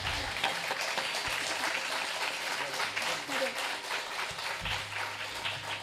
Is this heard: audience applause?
yes